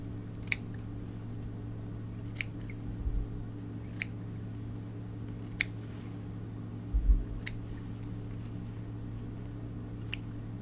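Small scissors snipping fly-tying material while trimming a fly flat, about seven sharp, isolated clicks spaced a second or two apart over a steady low hum, close and quiet with no talking.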